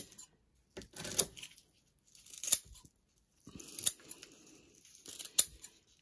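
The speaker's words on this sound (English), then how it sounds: "that way I know that I'm cutting the exact same size for each one" Scissors snipping 1x1 fabric squares for a DIY Santa suit: four separate crisp cuts spaced about a second apart, close and clear with quiet gaps between them.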